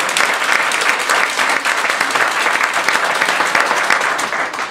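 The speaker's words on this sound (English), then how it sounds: "Let's give them a round of applause." Sustained, dense applause from a Toastmasters contest audience fills the room at steady volume, with no break in the clapping from start to finish.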